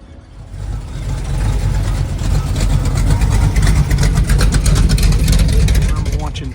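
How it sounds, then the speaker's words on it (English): A Smokey and the Bandit style Pontiac Trans Am with T-tops idles at a monthly cruise-in in Gadsden, Alabama, a loud, close, deep steady engine rumble that holds throughout while someone talks over it. "And here's a Smoking the Bandit style Trans Am"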